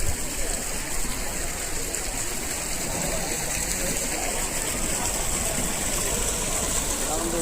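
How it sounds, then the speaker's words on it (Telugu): Water fountain at Wonderla amusement park in Hyderabad: a steady, broad rush of splashing water fills the scene, with faint crowd noise beneath. "water fountain"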